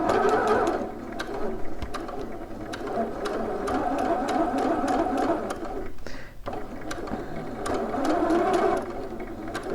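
Sewing machine stay stitching along a bodice past the collar, a steady fast whirring run close by that continues almost unbroken, with a brief pause midway and a few light clicks.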